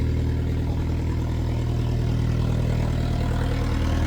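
Alfa Romeo 4C with a GMS valved full exhaust and high-flow cat idling after a cold start: a steady, deep, loud rumble throughout with no talk.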